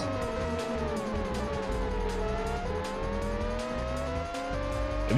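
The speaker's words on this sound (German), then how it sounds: "So hochgepitchte Formel 1 Wagen." High-pitched, whining Formula 1 car engines from a PlayStation video game, several overlapping and shifting in pitch, steady and loud throughout with no talking.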